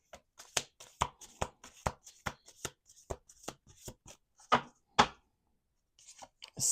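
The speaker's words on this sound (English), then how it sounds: "Last shuffle." A deck of playing cards being shuffled by hand in close, crisp bursts: a rapid series of sharp riffles and snaps, then a few sparser taps with short silent gaps between them.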